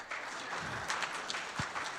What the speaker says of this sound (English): Please clap, come on.